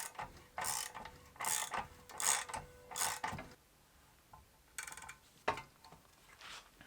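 A valve spring compressor works the valve springs down on a BMW M52B28 engine, giving a series of faint, close metallic ratcheting clicks in short rhythmic bursts, followed by a few scattered taps.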